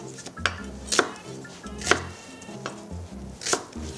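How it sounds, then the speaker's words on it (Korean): A knife chops a large onion, cut into thirds, on a cutting board: about five sharp, separate strikes at an uneven pace, close and clear over soft background music. "큰 양파 같은 경우에는 3등분 내어서 썰어주세요"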